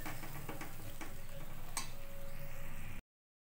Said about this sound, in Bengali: দিয়ে দিলাম পোস্ত বাটা, দিয়ে মশলাটা ভালোভাবে নেড়ে নেব।